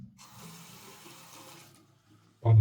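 A bathroom water tap runs at strong pressure while hands are washed in a tiled apartment bathroom in Volzhsk. A steady rushing stream with faint clinks fades out, and a short loud thump follows at the end.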